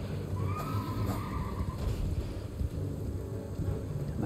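A horse in the video game Elden Ring neighs with a drawn-out whinny over a steady, heavy rumbling backdrop, fairly close and clear.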